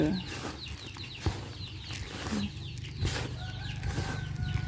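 Chicks and hens cluck and cheep around a farmyard while feed mixed with red azolla (water fern) and meat is stirred, scattered short calls and scraping over low background noise, with a voice speaking.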